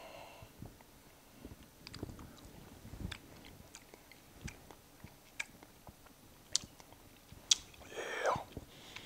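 Someone chews key lime wasabi aioli during a taste test, soft close mouth clicks and wet smacks in an irregular rhythm, with a quiet voice and light rustling near the end.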